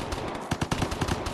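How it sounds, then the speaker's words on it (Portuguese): Rapid bursts of automatic gunfire in the video game Vigor, several volleys of loud cracking shots in quick succession with a short pause between clusters, no talking. "Oh, dá tiro ali também."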